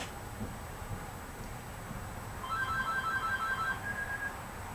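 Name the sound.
phone ringing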